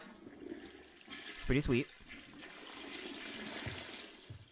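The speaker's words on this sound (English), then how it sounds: "we can flush the toilet." A toilet flushes in a cabin in Friday the 13th: The Game, a short gurgling surge followed by a softer trickle of refilling water, with someone speaking briefly over it.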